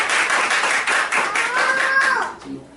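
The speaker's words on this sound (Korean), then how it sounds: "박수로 환영하겠습니다." A church congregation at a Sunday service claps together in welcome, a brisk run of close, rhythmic handclaps that fades out as a voice is heard briefly near the end.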